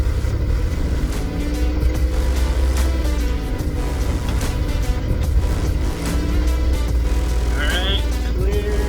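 Third-generation Toyota 4Runner driving in second gear without power steering, a loud, steady engine drone and road rumble close by, with voices talking over it.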